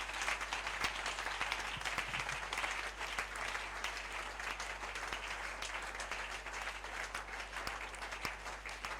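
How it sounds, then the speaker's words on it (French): A church congregation claps together in sustained, even applause that fills the room at a moderate level over a faint low hum. "You want to clap, clap."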